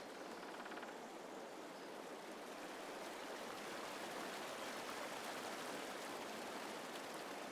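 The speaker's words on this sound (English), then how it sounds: "The water just kind of flows down." Steady broadband rush of a flowing stream on a picturesque map in Farming Simulator 22, continuous and even throughout, close and moderately loud with no voices.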